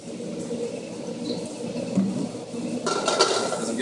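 Food sautéing in oil in a pan, a soft sizzle with clinks and scrapes of a utensil that grow busier and louder toward the end, no talking.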